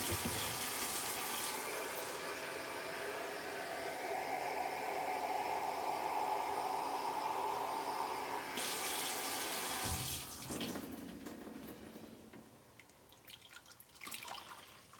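Hot tap water runs steadily into a lab beaker with a full, hissing splash, then shuts off near the end, leaving faint drips and small clinks in a quiet room.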